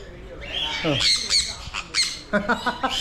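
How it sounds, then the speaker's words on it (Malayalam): A parrot gives a series of harsh, bright squawks, a few drawn out and several short bursts in a row, fairly close and loud. "തത്ത തത്ത തന്നെ കേട്ടോ"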